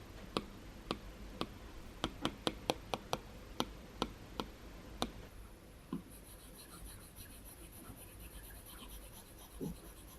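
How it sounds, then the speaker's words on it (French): Stylus tapping and drawing on an iPad fitted with a paper-texture screen protector: a quick series of sharp, close ticks in the first half, then a few faint scratchy strokes with quiet gaps. "lorsqu'on passe le stylet dessus, en fait ça agrippe le stylet, un peu comme le crayon qui s'agrippe sur le papier"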